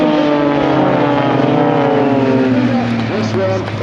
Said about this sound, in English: Now it's only a small aircraft, the extra 300, 24-foot wingspan